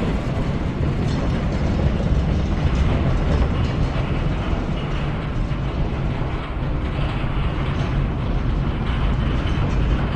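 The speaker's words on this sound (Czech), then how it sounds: "Ten vlak je pomalej," A train rumbles steadily through the video game Fort Solis, a continuous loud low-pitched roll with faint rail clatter and no talking.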